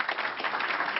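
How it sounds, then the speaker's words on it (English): A brief burst of steady hand clapping from attendees at a Board of Education meeting during a certificate presentation. Moderately loud and lasting about a second, with no voices over it. "You might want to hold your applause till the end here."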